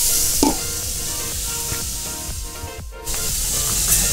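Chicken feet adobo sizzles steadily in a covered pan at an outdoor cooking setup, a dense continuous hiss with a few soft knocks and a brief dip near the end before the frying noise returns.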